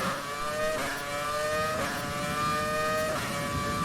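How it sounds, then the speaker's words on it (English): Game F1 car from F1 2020 spinning in donuts on a back straight, engine holding a steady high whine with rising revving sweeps roughly every second as it drifts, loud and continuous with no voices. "shall I start doing donuts on the back straight? Oh god, I drifted it then."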